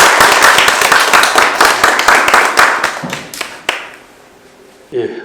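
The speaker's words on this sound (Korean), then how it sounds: "박수 해주시기 바랍니다." Audience applause at an architecture lecture forum as a speaker is introduced, dense clapping for about three seconds that thins into scattered claps and fades, followed by a voice starting to talk.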